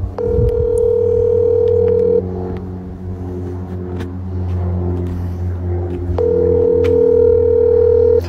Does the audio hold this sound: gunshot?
no